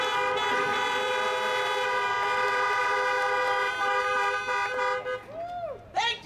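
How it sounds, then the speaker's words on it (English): Car horns honk in support at a campaign rally, a long sustained blare of several overlapping horns holding steady before breaking into shorter toots, loud and close. "Keep those horns honking."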